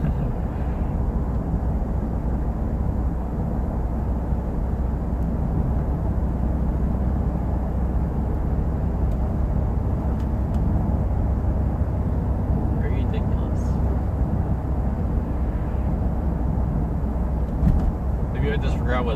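A 2015 Subaru WRX with a Stage 1 tune pulls hard at full throttle on a cold winter road, its engine a steady loud broadband roar heard from inside the car, with a couple of brief clicks near the end.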